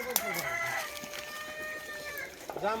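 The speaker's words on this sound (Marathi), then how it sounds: "शेवग्याच्या पानाखाली कोंबड्या." Farm chickens gathered under a drumstick tree cluck and call in short bursts, with a drawn-out fowl cry in the middle and a human voice mixed in nearby.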